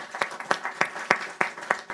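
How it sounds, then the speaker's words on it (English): An audience applauds at a voting rights event, heard as a quick run of separate, sharp claps at a steady rhythm, moderately quiet and fairly close. "So give a round of applause to Stephanie Brown James."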